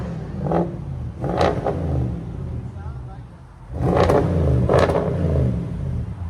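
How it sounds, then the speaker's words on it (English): An Audi S7 with a 4.0-litre twin-turbo V8 and muffler delete revs in two bursts of throaty exhaust roar, each climbing then falling, with a quieter idle between and people talking over it. "Now you can actually hear the car, man."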